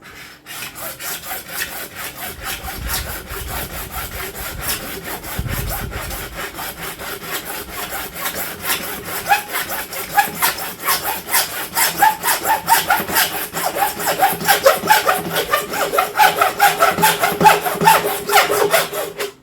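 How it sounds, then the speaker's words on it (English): A very blunt hacksaw rasps back and forth through material while building a garden tower, its rhythmic strokes close and loud, growing faster and more forceful toward the end, with no voices. "So now we're going to start cutting here with a very blunt hacksaw."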